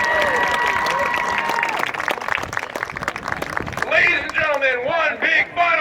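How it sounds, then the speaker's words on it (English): Large audience applauding at a senior recognition ceremony in Leonardtown, Maryland, a sustained dense wash of clapping throughout, with a high tonal sound over it near the end. "Ladies and gentlemen, one big final round of applause"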